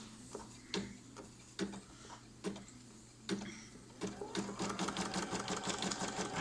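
An embroidery machine stitches the outline of a Boxy Mama bag in rhythmic ticking bursts, first spaced out and then a fast steady run, close and moderately quiet, with no speech.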